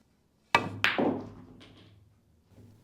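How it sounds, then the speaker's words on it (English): On a pool table, a sharp cue strike is followed a moment later by a second hard clack, then a fading rolling rumble and a soft later knock as the 8 ball is pocketed, all close and with no talking. "I'm going to pocket this 8 in that corner up there"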